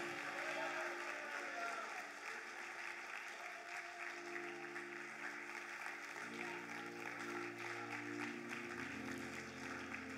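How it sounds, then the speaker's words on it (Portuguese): A church congregation applauding during a worship service, sustained clapping and crowd noise at moderate level with a droning musical tone underneath. "Vai aplaudindo e glorificando ao Senhor."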